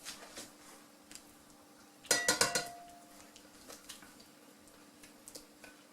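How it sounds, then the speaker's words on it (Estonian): A whisk clatters briskly against a metal pot while beating powdered sugar and butter, a short loud burst of rapid metallic taps followed by a few scattered clinks. "Ja üritame selle ära vahustada."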